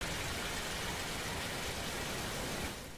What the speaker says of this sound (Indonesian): tiba-tiba turunlah hujan dengan begitu sangat amat deras